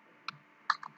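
A few light computer keyboard key clicks while typing a name into a Gmail account sign-up form, two or three quick taps, close and quiet, with no talking.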